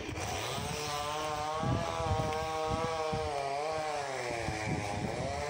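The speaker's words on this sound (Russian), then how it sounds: "звук вот этой бензопилы меня добивает" A petrol chainsaw cuts old trees in a town, its buzzing engine revving and bogging in uneven surges, steady and fairly loud from a moderate distance.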